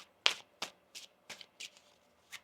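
Tarot cards being riffled and shuffled in a handful of quick, crisp bursts, close and fairly quiet, with no talking.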